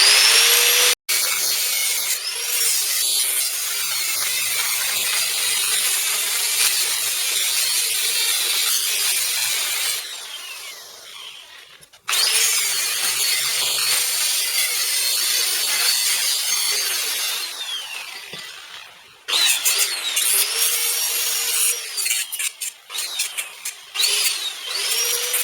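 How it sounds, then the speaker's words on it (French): Saw cutting through a BMW car part being trimmed to fit a TDS engine swap, a steady close rasping stroke that runs in three long bursts separated by brief pauses, with no talking. "Donc on va la couper ici, juste avant la boule là."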